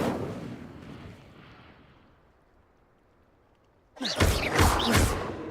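In Hogwarts Legacy, the Incendio fire spell bursts out with a sudden loud whooshing roar of flame, following a fading rumble and a near-quiet lull.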